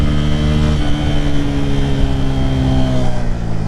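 A Bajaj Pulsar N160 motorcycle engine pulls hard under acceleration, its steady rising drone climbing in pitch through the gears, loud and close throughout with no talking.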